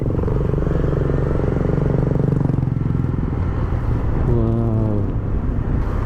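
A vehicle engine labours up a rough dirt road toward a communal ranch in Impasugong, Bukidnon, a close, steady low drone with a rising whine near the end, under road rumble.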